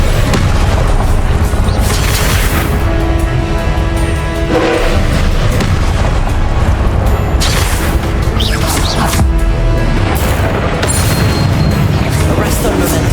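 A Confringo blast spell in Hogwarts Legacy gameplay booms and rumbles amid dense, continuous combat noise, heavy low explosions layered with crackling effects and game music.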